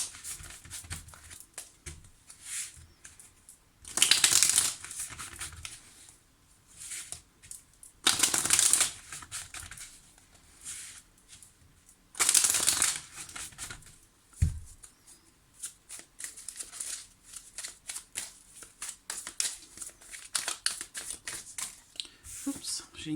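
Tarot cards shuffled by hand in several quick riffling bursts between stretches of quiet talk by a woman, close and crisp.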